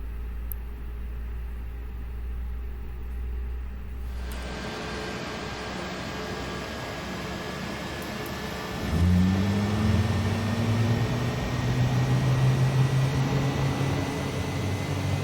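An aircraft engine starts up in Microsoft Flight Simulator. A steady cockpit hum cuts out and is replaced by a low rumble, then a rising drone builds and settles into a louder, steady engine tone, with no talking.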